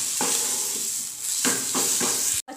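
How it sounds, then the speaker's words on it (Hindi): Potato bharta (mashed potato chokha) stirred and fried in a pan over a medium flame, giving a steady loud sizzle with several scraping stir strokes and a brief break near the end; no talking. "मीडियम फ्लेम के ऊपर हम इसे 1 मिनट तक भून लेंगे।"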